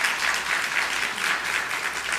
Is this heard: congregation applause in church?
yes